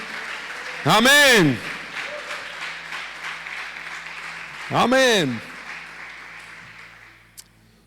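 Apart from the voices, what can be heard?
congregation applauding in church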